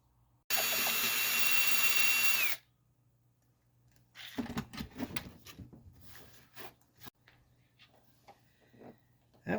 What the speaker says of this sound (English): I'm going to drill pretty much as deep as I can so that the bolt can go as far down as it needs to go.